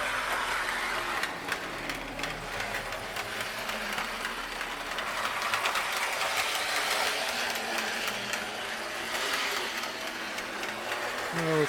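A Marx O-27 three-rail toy train engine runs steadily on a layout, giving a continuous whirring motor hum with faint clattering over the track, close and moderately loud throughout.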